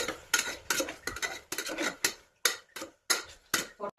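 A metal spoon scrapes and knocks against a pan while tomatoes are stirred in for tomato rice, giving irregular clinks and clatters with short pauses, close and moderately loud, no voices.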